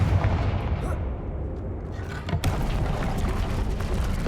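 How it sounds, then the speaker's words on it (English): A Confringo fire spell explodes in Hogwarts Legacy, heard as a dense, continuous roar of booming blasts with a sharper burst near the middle, loud and sustained with no talk over it. "Confringo."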